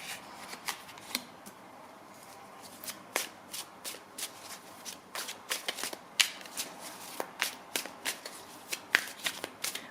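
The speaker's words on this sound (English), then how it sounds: "I was shuffling the cards earlier" Tarot cards shuffled by hand in a steady run of crisp, riffling snaps and flicks, close and clear, with no talk over them.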